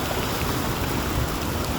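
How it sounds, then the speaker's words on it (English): Heavy rain pours down at the onset of a hailstorm, a dense, steady hiss of water pattering hard on surfaces with no break. "there's a hailstorm coming"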